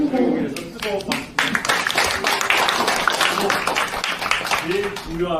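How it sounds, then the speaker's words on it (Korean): Warm clapping from an audience at a book concert, dense and steady for several seconds while a voice talks over it through most of the stretch. "성경의 무대에서 뜨거운 박수"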